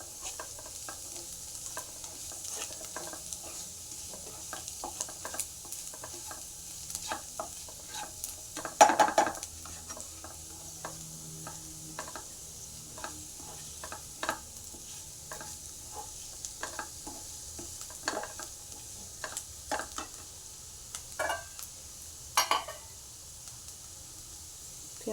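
Garlic paste sautés in a pan for cashew curry, giving a soft, steady sizzle broken by frequent short stirring scrapes and clicks of a spoon, with one louder clatter near the middle.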